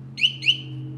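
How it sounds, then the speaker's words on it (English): Alarm on a custom Electric Bike Company e-bike chirping twice in quick succession, bright rising electronic tones over a steady low hum, close and moderately loud. "Oh, that was the alarm."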